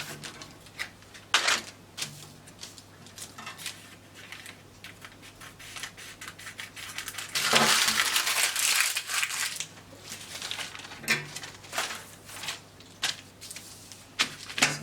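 Scissors cutting through a paper sleeve pattern, crisp snipping and crinkling rustle in irregular bursts, growing denser and louder midway before returning to scattered cuts, close and alone.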